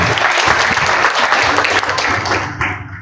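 An audience at a Badgujar community gathering in Jalgaon applauds for the fiftieth anniversary of the Badgujar Utkarsh Mandal, with sustained loud dense clapping that tapers off near the end.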